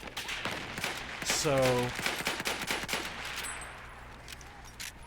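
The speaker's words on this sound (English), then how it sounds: "Hitting us with artillery." Artillery and heavy gunfire pound away in a Battlefield match: a burst of rapid, punchy blasts gives way to scattered booms and rattling shots, with a voice briefly speaking over the noise.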